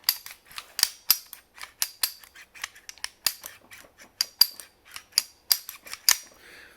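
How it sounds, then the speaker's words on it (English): Kimber Warrior 1911 pistol slide racked repeatedly on a dry, unlubricated gun, a rapid series of sharp metallic clicks and clacks, close and crisp, with no voices. "listen to this slide"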